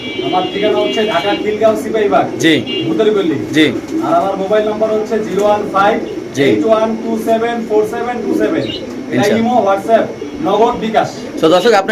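Racing pigeons coo repeatedly at a pigeon farm, their soft rolling calls running continuously close by while people talk over them throughout.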